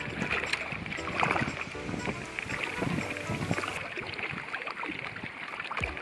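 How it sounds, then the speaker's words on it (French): Steady wind buffets a lakeside with rough gusty noise and scattered knocks and splashes, loudest around the second mark, with no voices. "C'est le vent qui n'arrête pas de souffler."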